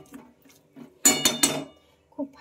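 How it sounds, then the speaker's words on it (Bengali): Chicken is stirred with spices in a cooking pan, giving three quick metallic scrapes and clinks of the utensil against the pan close up, with soft faint shuffling sounds before and after. "তো চলো এখন এটা আমি কিছুক্ষণ ভালোভাবে নেড়ে চেড়ে মশলাগুলো খুব ভালোভাবে চিকেনের সাথে আমি মিশিয়ে নেব।"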